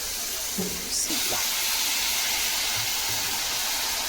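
Tamil home-style greens (keerai) hit hot oil in a pan, giving a steady, close broadband sizzle and hiss that runs throughout, with a few soft clinks and a brief faint voice early on.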